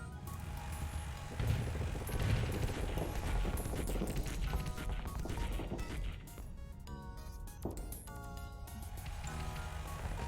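Mining pike explosions from the space combat game Starsector, a dense loud run of crashing blasts and impacts with layered game effects and tonal beeps, continuous throughout with a louder burst near the start.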